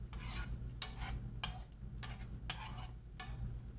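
Spicy mackerel curry is stirred in a pan over medium heat, a spoon scraping in soft, regular strokes about every half second against a steady low hum.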